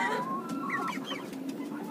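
A sick young chicken clucks softly in a short burst of chirpy, fluttering calls against a quiet room background, close but faint.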